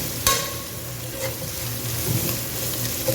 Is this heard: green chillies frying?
yes